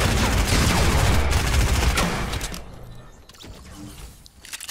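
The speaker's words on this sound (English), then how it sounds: "Oh, the new shotgun." Gunfire in the Fortnite video game, including a new shotgun, crackles loud and dense for about two seconds, then fades into scattered quieter shots and game noise.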